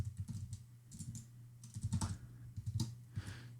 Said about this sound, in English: Over to the right, type in a comment